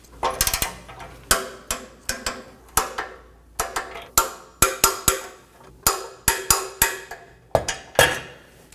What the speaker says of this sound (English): Let's torque all of these down to 21 foot-pounds.